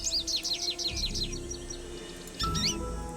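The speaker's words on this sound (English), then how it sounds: "there's the goldfinch" American goldfinch calls in the Nancy Drew game Ghost Dogs of Moon Lake: a rapid run of bright, wavering chirps near the start, then a second burst of twittering notes later, clear over a low outdoor ambience.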